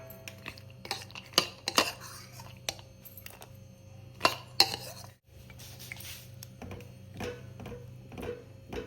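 Coconut semiya payasam is stirred in a metal pot as fried cashews and raisins go in. Irregular clinks and scrapes of a spoon against the pot come in clusters, close and fairly loud, with a brief pause midway.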